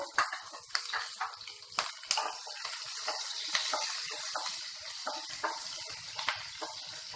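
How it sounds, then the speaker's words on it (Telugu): Green chilli pieces and onions fry in oil in a pan for an egg curry, with close, light sizzling and a string of irregular pops and crackles over a thin background hiss. "ఇవి కొద్దిసేపు ఫ్రై చేసేసుకుందాము ఇప్పుడు ఇవి వేగిపోయాయి ఇందులో మనము ఫస్ట్ గ్రీన్ చిల్లీ ముక్కలు వేసేద్దాము"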